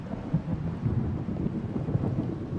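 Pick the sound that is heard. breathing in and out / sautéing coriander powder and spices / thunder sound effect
thunder sound effect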